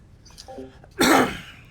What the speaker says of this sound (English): enjoy that phlegmy cough